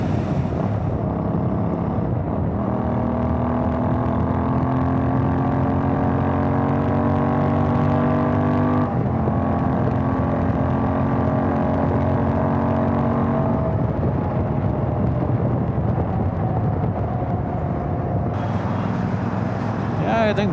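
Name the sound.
Royal Enfield Interceptor 650 motorcycle accelerating on highway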